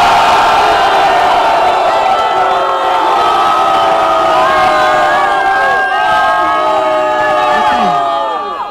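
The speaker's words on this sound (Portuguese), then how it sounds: "Só quem gostou do Johnny, faz barulho aí, Botafogo" A large crowd at a 2017 state semifinal battle in Botafogo cheers and screams loudly and continuously, a dense wall of shouts and whoops that fades slightly at the end.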